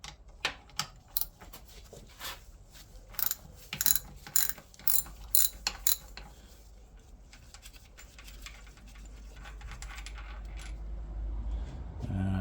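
A ratchet working the single 13mm bolt on the kickstart of a Honda CB400T Dream motorcycle, giving bursts of close, sharp pawl clicks in quick runs, then a steady low background hum.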